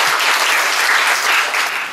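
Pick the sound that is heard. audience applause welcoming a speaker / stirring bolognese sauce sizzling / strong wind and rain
audience applause welcoming a speaker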